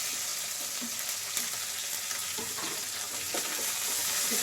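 Green chillies, capsicum and tomato frying in oil for uppittu give a steady close sizzle, with soft stirring scrapes scattered through it.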